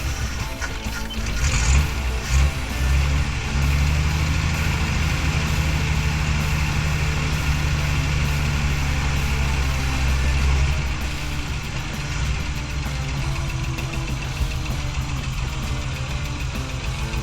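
An International Scout's six-cylinder engine idles roughly with a steady, close low rumble and an uneven shake that suggests misfiring, running continuously with no voices over it.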